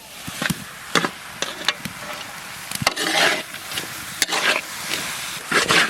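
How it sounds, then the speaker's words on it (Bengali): Minced meat and boiled potatoes sautéed in a pan, with scraping spatula strokes and clicks against the pan over a steady sizzle of frying, close and busy, with no talk. "এবার আমরা আলুটা দিয়ে আরো সুন্দর করে কষিয়ে নেব"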